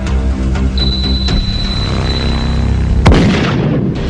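A bamboo cannon fires a single deep boom partway through, loud and close, after a stretch of steady background rumble.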